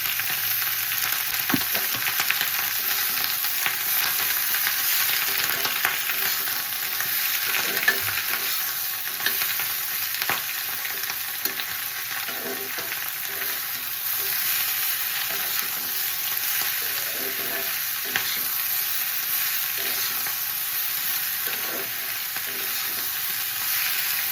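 Chopped onion, tomato and slit green chili sizzle steadily in hot oil for a fish curry, a continuous bright frying hiss with occasional stirring clicks and pops throughout, no voices.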